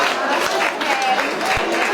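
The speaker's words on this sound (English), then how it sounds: "A huge round of applause." Dense applause fills a municipal election ballot draw for first position on the ballot paper, a steady wash of many hands clapping close by, with voices mixed in throughout.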